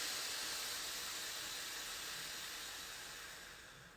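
Breath is blown slowly and forcefully into a hole formed by cupped hands, making a soft, broad hiss that holds steady for several seconds and then gradually tapers off, close and alone.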